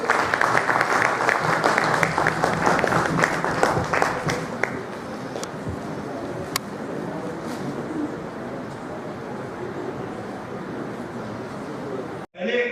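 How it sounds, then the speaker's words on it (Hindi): Audience applause at an education society award ceremony, a dense wash of clapping that is strongest in the first few seconds and then thins into a softer, steadier patter before a brief cut near the end. "तालियां बजाइए।"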